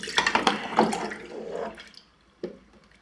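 Water splashes and gurgles as it pours into a cooking pot, a brief close run of sloshing that tapers off, followed by a single faint clink.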